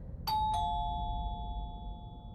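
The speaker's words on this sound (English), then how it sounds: "the doorbell rang again." Two quick doorbell chimes ring out close together near the start, their clear tones fading slowly over a low background hum.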